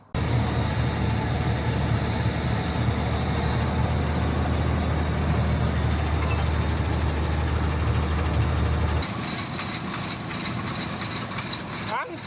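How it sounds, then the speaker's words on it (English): A tractor engine drones in a steady, loud, continuous rumble from inside the cab, then shifts to a lighter, thinner running tone near the end, with a voice over it. "let's get over in the tractor, get punching some holes"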